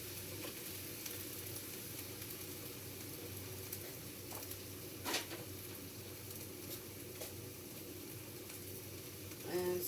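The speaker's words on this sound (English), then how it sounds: "rice in here to let it fry a little bit" Rice frying in a pan at home, a quiet steady sizzle with a few soft stirring scrapes, close and continuous.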